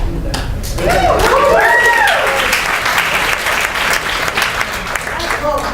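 A town hall audience in New York City breaks into sustained applause, thick clapping with scattered cheers, while voices carry over the clapping in the early part.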